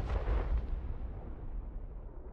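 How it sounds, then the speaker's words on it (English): A single heavy boom in the game Night in the Woods, with a long rumbling decay like a distant blast or gunshot, fading out over a couple of seconds with no voices. "Was that a gunshot?"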